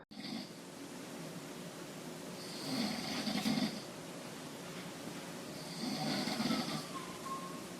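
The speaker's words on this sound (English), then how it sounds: "my alarm clock app records snoring and heavy breathing" Two slow, raspy snores rise and fall about three seconds apart, faint and distant against a steady background hiss, recorded at night by a phone alarm clock app.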